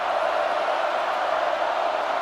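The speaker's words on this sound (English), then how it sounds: "Penn State fans making some noise for their defense." Penn State fans at the Rose Bowl roar for their defense, a dense, steady wall of distant crowd cheering and shouting that stays loud and even throughout.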